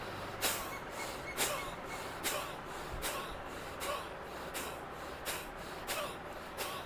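Forceful bhastrika yoga breathing: roughly nine sharp, forceful exhalations through the nose in a steady rhythm, close and fairly loud, with no talking between them.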